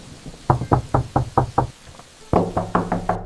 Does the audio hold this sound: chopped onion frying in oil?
no